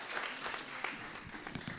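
An audience at a mushaira and kavi sammelan poetry gathering applauds to welcome poet Azm Shakiri, a dense, steady wash of clapping from a crowd with no talk.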